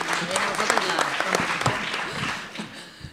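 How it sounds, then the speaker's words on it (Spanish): Audience applause at the inauguration of a conference on Spanish republican exile, a dense spread of clapping that continues steadily and thins slightly toward the end, with voices mixed into the crowd noise. "merece un doble aplauso"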